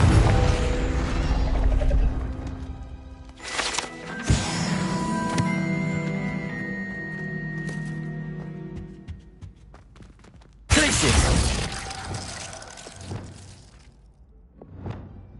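The Confringo explosive spell cast in Hogwarts Legacy bursts with sharp crashing blasts and shattering debris, a big hit early and another after a pause, with magical whooshing and tonal shimmer between, loud and close.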